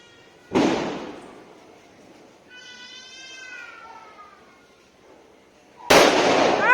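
Two loud Diwali firecracker bangs go off several seconds apart, with a short bleating, meow-like voice heard in the quiet between them.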